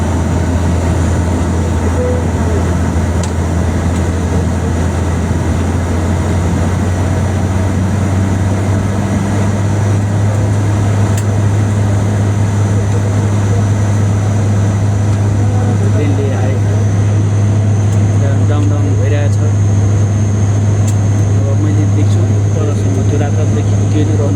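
A loud, steady engine drone fills an airplane cabin during landing, with a deep low hum and a broad rushing roar that holds constant throughout.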